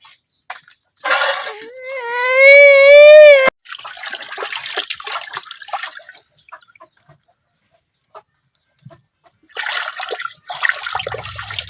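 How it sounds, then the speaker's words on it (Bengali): Cut chicken meat is washed with water in a village kitchen. Splashing, pouring and trickling come in several separate bursts with quiet gaps between them, and a brief squealing whine sounds near the start. "মুরগিটা কাটা হয়ে গেছে, এখন আমি পরিষ্কার করে ধুয়ে নিয়াম।"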